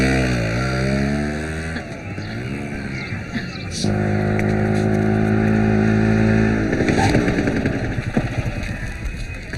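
A new auto rickshaw engine driving around on a street, a loud close motor chugging and revving with shifting pitch, and brief voices over it.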